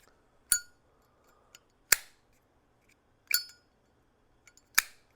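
Four crisp metallic clicks of a replica 1941 Zippo lighter lid snapping open, spaced over a few seconds, with soft faint taps between them in a quiet room.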